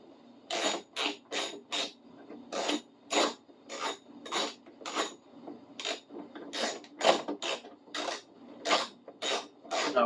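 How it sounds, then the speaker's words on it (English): Metal bolts dropped one after another into an ebike's pan-shaped metal seat pan, giving a steady run of close, sharp clinks and rattles with short pauses between them. "so I can just drop all the bolts in the center of it"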